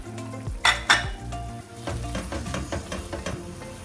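Almond halwa cooking in a pan with extra oil added sizzles steadily while a spoon scrapes and clatters against the pot in a few quick strokes near the start, with no one speaking.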